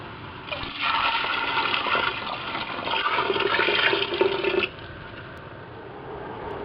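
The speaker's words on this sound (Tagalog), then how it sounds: "Next, ilalagay na natin yung chicken stock." Chicken stock from boiled chicken pours into a pot for molo soup. A steady liquid gush runs for about four seconds, then cuts off, leaving a quieter background.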